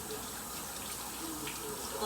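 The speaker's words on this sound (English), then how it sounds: "let's wash my hands" A kitchen tap runs steadily during handwashing, a soft, continuous stream of water splashing into the sink, fairly faint and even throughout.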